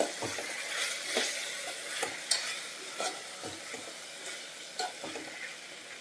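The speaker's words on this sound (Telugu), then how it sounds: "ఇప్పుడు ఇవన్నీ యాడ్ చేసుకున్నాం కదా, మరొకసారి బాగా కలుపుకుందాం" Spices are stirred into a capsicum masala curry in a pan, a series of distinct spoon scrapes and knocks over a soft, quiet sizzle, close and alone without voices.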